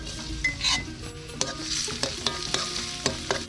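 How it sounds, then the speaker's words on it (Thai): Shallots frying in vegetable oil in a pan, giving a steady close sizzle with scattered sharp clinks and scrapes of a utensil stirring them. "ใส่น้ำมันพืชนนะครับเอาหอมเตี๊ยมลงไปเจียวครับ"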